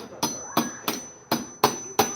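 A hammer gently taps a part out of a chainsaw, six sharp metallic strikes spaced roughly a third of a second apart, close and distinct with no talking.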